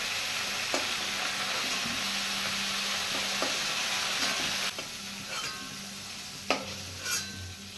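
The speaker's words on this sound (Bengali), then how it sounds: "ফুলকপি ভাজা হয়ে গেছে" Cauliflower fries lightly in oil in a pan, a steady broad sizzle with occasional stirring clicks and scrapes, close and continuous, no talking.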